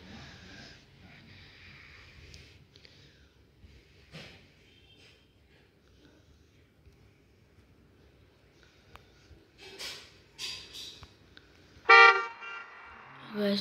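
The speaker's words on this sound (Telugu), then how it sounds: "అడు హార్న్ కొట్టాడు" A car horn honks in busy traffic as a rider on a cafe racer motorcycle passes, giving a few short loud blasts near the end over a low rumble of traffic.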